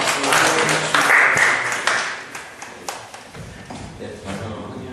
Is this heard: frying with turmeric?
no